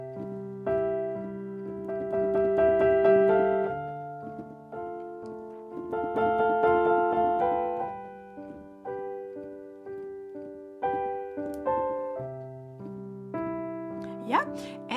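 A solo piano plays a piece, with gentle, dreamy phrases in a flowing rhythm and repeated rolled chords and melody notes that rise and fall in clear, close swells.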